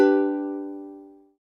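Single ukulele chord, a G for a bluesy ending, strummed once and left to ring clearly and close by, fading out over about a second and a half with no talk.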